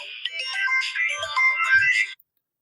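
A mobile phone ringtone plays a bright melodic tune for about two seconds and then cuts off abruptly, heard alone.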